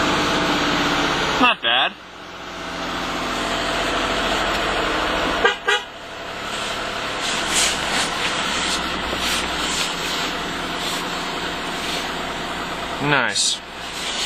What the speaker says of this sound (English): Cold start, number 1.